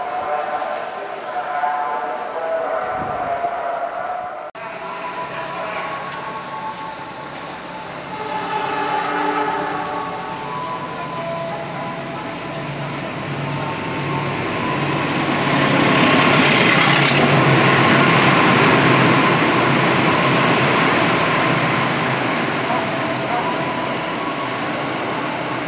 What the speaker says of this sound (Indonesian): ini langsung perdana kereta api Walahar masuk di jalur 5